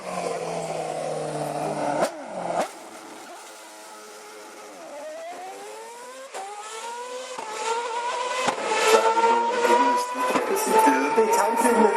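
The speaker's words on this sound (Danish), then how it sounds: "så her ned ad langsiden, hvor Dale Coulthard når hastighed omkring 260 km i timen" A Red Bull Formula 1 car driven by David Coulthard at a demonstration at CHGP 2012 screams past at speed, its engine note rising through repeated upshifts, growing louder and shriller toward the end.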